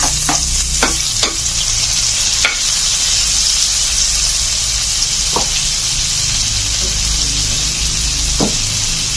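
Onions with garlic frying in a pan for Filipino pork kaldereta, a steady close sizzle running throughout, broken by a few soft clinks of a utensil against the pan.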